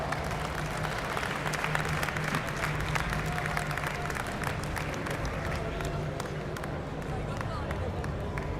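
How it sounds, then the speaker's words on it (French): Audience applause at a CS esports tournament, dense continuous clapping from a large crowd, with crowd noise and some voices mixed in throughout. "on peut les applaudir."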